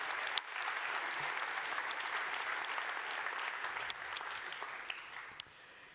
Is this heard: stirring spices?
no